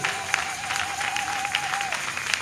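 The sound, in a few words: congregation applauding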